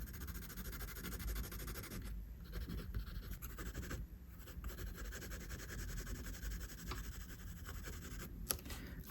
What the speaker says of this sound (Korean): 그리고 나서 눈썹도 어둡게 그려줍니다.